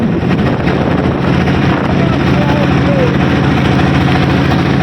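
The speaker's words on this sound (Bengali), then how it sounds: "বালু ভর্তি ট্রলার।" A sand-laden trawler boat engine drones steadily and loudly throughout, a constant low rumble with some wind-like noise layered over it.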